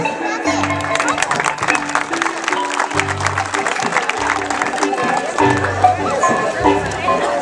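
Applause rises from the crowd at a village festival in Caserío Los Díaz, Palestina de Los Altos, a dense steady patter running the whole time under loud music and a voice speaking.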